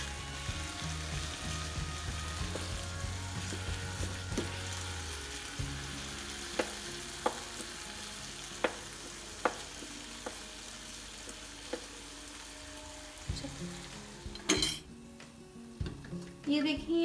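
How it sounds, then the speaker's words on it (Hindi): Grilled chicken seasoned with lemon juice and scored with a fork sizzles steadily in a pan, while utensils clink now and then against the cookware, close and moderately loud. "ये देखिए, ये ग्रिल चिकन बहुत अच्छे से कुक हो रहा है।"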